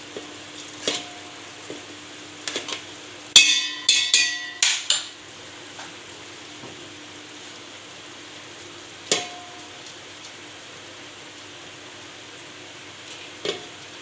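Rice poured into a pot for mutton biryani over a low gas flame, giving a short burst of clattering, sizzling scrapes at close range, then a few scattered clinks and knocks of stirring in a quiet kitchen.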